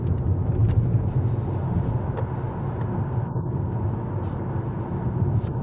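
Xiaomi SU7 electric car accelerating hard on a twisty forest road, a steady loud broadband rush of road and wind noise with a faint whine, continuous for several seconds.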